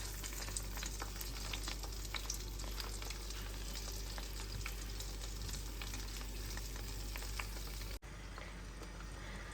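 Stuffed tinda, a round gourd packed with spice masala, frying in half a litre of hot mustard oil, giving a dense, steady sizzle that runs unbroken before dropping sharply near the end.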